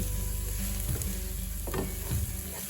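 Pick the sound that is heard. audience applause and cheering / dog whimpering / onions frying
onions frying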